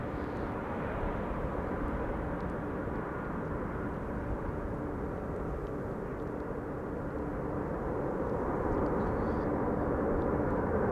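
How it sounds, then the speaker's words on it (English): Boeing 737-700 airliner landing, a distant, steady low engine rumble and wash of noise that swells slightly toward the end, with no voices. "Flight 1176 is now a landing, arrival from Stavanger."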